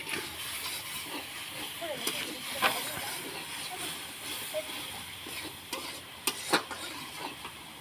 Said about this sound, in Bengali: এখন এই মশলাটাকে খুব ভালো করে কষে নিতে হবে।